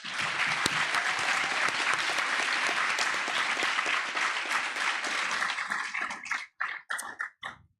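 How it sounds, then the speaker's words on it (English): Graduation audience at a Black affinity celebration applauding the class of 2024: dense, loud crowd clapping that holds steady, then thins into scattered final claps near the end. "Please join me in another round of applause to congratulate the esteemed class of 2024"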